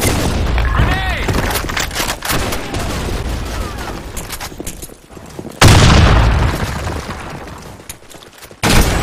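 Grenade blasts and gunfire in the shooter game Sand Storm, loud booms and crackling shots in bursts with a sharp heavy explosion midway and another at the end.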